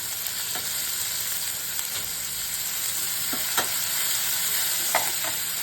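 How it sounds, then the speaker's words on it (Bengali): Prawns hiss and crackle in hot oil in a pan, a constant close sizzle with a few sharp ticks and scrapes from stirring; nobody speaks. "তেল গরম হয়ে গেছে, এবারে দিচ্ছি কি জানো, চিংড়ি মাছ"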